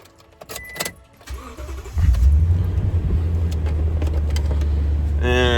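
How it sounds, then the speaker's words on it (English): A truck's engine cranks and catches at close range, then settles into a steady, loud idle that runs to the end, with a few clicks and handling noises just before it fires. "let's go ahead and start the truck"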